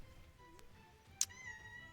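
A cat gives a single short, faint meow partway through, standing alone over a quiet, low background hum.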